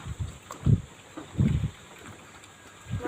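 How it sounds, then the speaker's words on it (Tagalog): Gusty wind buffets the microphone in low rumbling bursts, rising and falling several times over a steady background hiss. "Lakas ng hangin."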